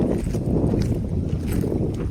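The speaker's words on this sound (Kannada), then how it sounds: "ಗಾಳಿ ಮಾತ್ರ ಚೆನ್ನಾಗಿ ಬರ್ತಾ ಇದೆ" Wind blows hard against the microphone, making a continuous low, rumbling roar with no voices.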